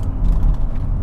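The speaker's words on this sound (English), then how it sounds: "Nice downshift." A 2022 MK8 Volkswagen Golf R with a seven-speed DSG gearbox downshifting, a brief loud mechanical engine and drivetrain burst heard from inside the car, with no voices.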